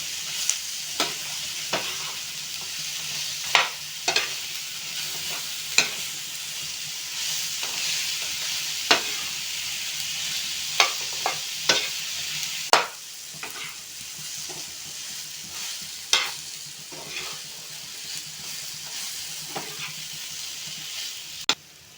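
Fried paneer being stirred into a sautéed chilli paneer mixture in a pan, a soft continuous sizzle with regular sharp clinks and scrapes of a spoon against the pan, close and unhurried, no talking.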